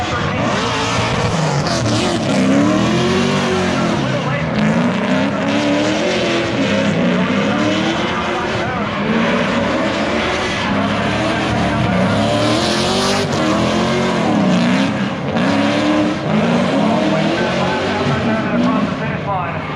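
Drift cars at a drifting competition roar through a sustained run, with engines rising and falling in repeated revving sweeps and tire squeal over the noise, while a commentator talks throughout.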